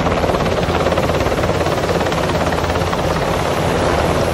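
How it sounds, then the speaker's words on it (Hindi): A toy helicopter flies with a loud, continuous buzzing rotor and motor drone, a rapid steady chop held close to the microphone for the whole span, with no talking. "चलो चलो इस हेलीकॉप्टर को तो उड़ाना पड़ेगा।"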